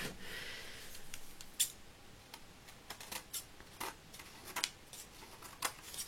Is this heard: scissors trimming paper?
yes